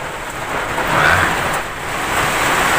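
Heavy rain pours down in a storm with strong wind, a constant roaring wash of water that swells and eases, loud and close with no voices over it.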